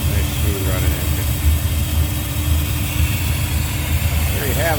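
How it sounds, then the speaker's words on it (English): A 1972 Buick Skylark coupe's 455 V8 with Edelbrock intake, HEI ignition and headers idles steadily with a low, lumpy rumble, close and continuous throughout. "Running engine."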